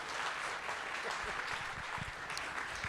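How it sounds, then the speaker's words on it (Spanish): Applause from an audience at a history and anthropology lecture, a steady, soft patter of many hands clapping throughout, heard from a distance. "Aquí aplauden."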